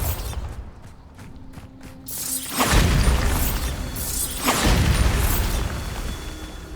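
Bombarda spell blasts in the Hogwarts Legacy video game: a soft ticking lead-in, then two loud, booming explosions around the middle and later, each with a bright crackling burst and rumbling tail.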